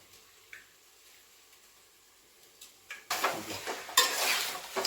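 Chicken kulambu being stirred in a pot: near-silence at first, then loud scraping and clinking of a spoon against the pot in quick, uneven strokes for the last couple of seconds.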